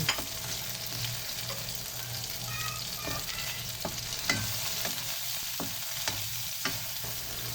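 Garlic, onion and tomato sauté in a pan for a chayote dish, with continuous close sizzling and frying, broken by occasional scrapes and clicks of a stirring utensil.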